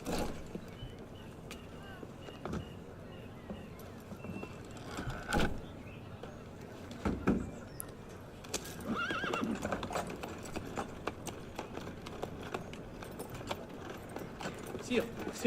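Horses in Assassin's Creed Unity neigh and clop their hooves in an in-game stable yard, with whinnies and hoofbeats rising now and then over steady ambience while characters talk.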